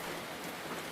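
Steady, dense rain falls on a Paris balcony as an even wash of hiss, with no talk, for a brief moment.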